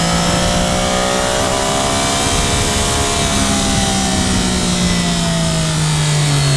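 Engine of a 2013 Triumph Daytona 675R rises in pitch as the bike accelerates on a roll-on, a loud, close, sustained growl over constant wind noise.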